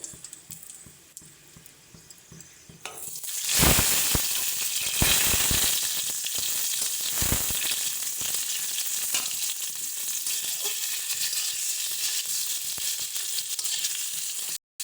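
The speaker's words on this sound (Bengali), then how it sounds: "দিয়ে দিচ্ছি তেজপাতা আর পাঁচফোড়ন এর সাথে আমরা আলুটাকে দিয়ে আলুটাকেও ভেজে নেবো" Potatoes dropped into hot oil with bay leaf and panch phoron: a quiet pan gives way to a sudden loud burst of sizzling, then a sustained steady fry with a few spatula scrapes, close up and without voices.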